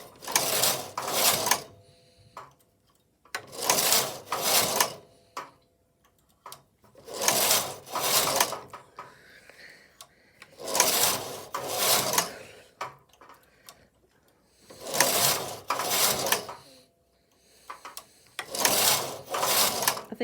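A Silver Reed knitting machine carriage is pushed back and forth to cast on, making six loud rattling, clacking sweeps with short quiet pauses between them.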